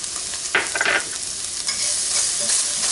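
Onions hit a hot skillet used for a peach-glazed chicken dish, giving a loud, bright, continuous sizzle with a burst of stirring and scraping near the start, heard up close with no one talking.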